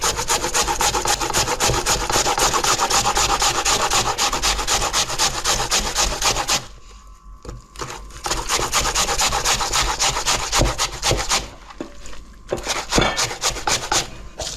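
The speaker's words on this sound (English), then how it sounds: "I just grated the potatoes" Three medium to large potatoes are rubbed against the largest holes of a box grater in a steady, rapid scraping rhythm that pauses briefly midway before resuming, close and loud with no talking.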